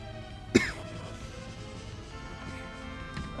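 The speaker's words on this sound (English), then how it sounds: "Oh, now you're coughing." A single sharp cough bursts out near the start, followed by quieter background noise and a faint second throaty sound at the end.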